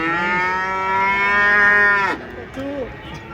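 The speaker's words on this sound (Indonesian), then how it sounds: "Kasihan ya sapinya nangis ya." One long, loud, drawn-out moo from a nearby cow just off a truck at a market, holding steady before dropping off abruptly, followed by a brief softer vocal sound.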